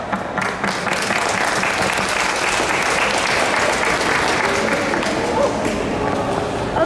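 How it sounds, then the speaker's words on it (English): An audience at a World Tai Chi Day tai chi demonstration applauds with a dense, steady wash of clapping that lasts about seven seconds without letting up. "You want to give a round of applause for Janet Jin and the group?"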